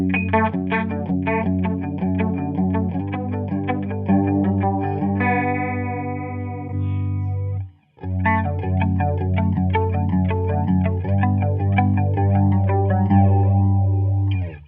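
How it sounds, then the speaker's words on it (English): Electric guitar chords ring out through a Blackstar Dept. 10 AMPED 2 with chorus at full setting, a brief pause midway, then the wavering, doubled tone resumes. "That's chorus at 10."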